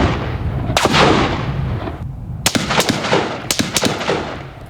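AR-10 and AR-15 rifle shots ring out across a desert valley, a long booming blast followed after a pause by a quick cluster of sharp cracks, each echoing loudly in the open air.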